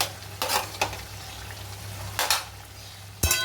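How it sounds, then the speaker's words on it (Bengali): Shrimp fried with spices and tomato in a pan for a shrimp and pumpkin curry, giving a steady low sizzle with a few sharp scraping stirs and a clank near the end. "চিংড়ি মাছ, আর মশলার সঙ্গে ভালো করে কষবে"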